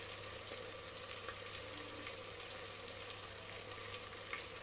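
Minced mutton keema fries steadily in a pan with chilli powder, turmeric and garam masala, a faint continuous sizzle with quiet stirring scrapes underneath and no voices.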